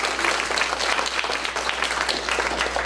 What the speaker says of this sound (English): So a round of applause for Nick.